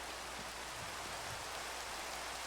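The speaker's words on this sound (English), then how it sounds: "Oh, and speaking of, it's raining." Steady, dense video game rainfall hisses continuously at a loud, even level, a broad wash of drops with no gaps or other sounds.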